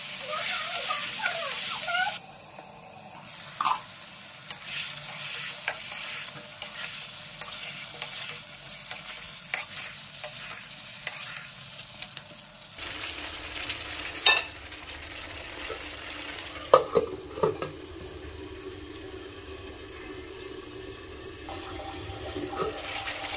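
Pumpkin and shrimp curry cooks under a lid in a pan, giving a quiet, uneven sizzle with scattered soft clinks and stirring sounds throughout.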